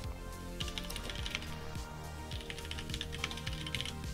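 Quick, continuous keystrokes on a computer keyboard, close and fairly quiet, tapping in an uneven rhythm with no voices.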